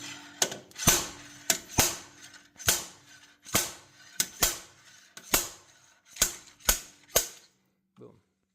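A slide hammer pulls the axle shaft on a Dodge Durango with about ten sharp metallic impacts at a steady, slightly uneven rhythm, each loud and close, with a brief faint sound at the end.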